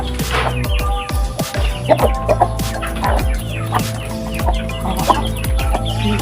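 Chickens cluck busily at feeding time outdoors in a rural yard, with many overlapping short clucks and calls close by and a steady low background hum.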